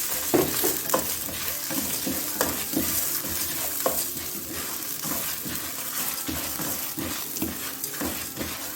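Red chillies are added to a hot pan with sesame seeds and stirred, giving steady dry sizzling and frying noise broken by repeated scraping and rattling stirs throughout.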